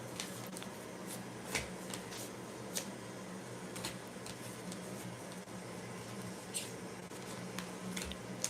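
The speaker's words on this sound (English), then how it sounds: "let me just shuffle these cards up" Tarot cards shuffled by hand in a steady, continuous riffle with soft papery flicks and a few sharper snaps, heard close up with no talking.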